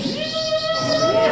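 A voice imitates a high, wavering electronic whine, like hearing aid feedback, held loud and steady for over a second.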